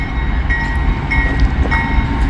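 A CSX freight train rolls past close by on the railroad, a loud continuous rumble and rattle of rail cars with a faint tonal whine and no talking.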